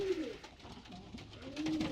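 Racing pigeons cooing close by, soft low throaty coos at the start and again near the end over faint background noise.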